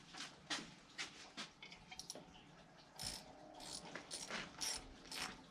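A ratchet fitted with a 3/8 socket works on a chainsaw being ported, giving a few quick, quiet clicking runs up close with brief gaps between them, with no speech.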